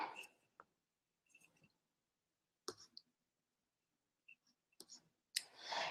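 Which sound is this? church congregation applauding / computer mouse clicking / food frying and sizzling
computer mouse clicking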